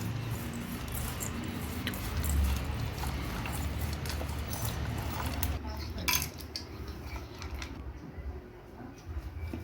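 Lays chips and masala are tossed together in a bowl, giving a steady crinkly rustling and light clattering against the bowl that continues throughout at close range.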